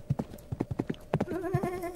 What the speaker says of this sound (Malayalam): വേഗം പോ കുതിര